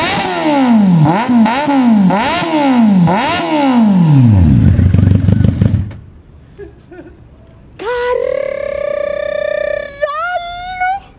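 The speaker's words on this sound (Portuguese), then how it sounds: "A minha tá berrando mais um pouco em marcha lenta." A Kawasaki Z800 with a header-only exhaust and no rest of the exhaust system blips loudly and repeatedly in sharp rising and falling revs, then drops to a rough lower idle before climbing again.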